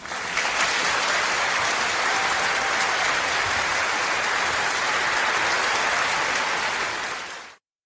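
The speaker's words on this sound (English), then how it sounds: "That's right, the audience clapped." An audience applauds steadily after a dance performance, dense clapping that holds at full strength for several seconds before cutting off abruptly.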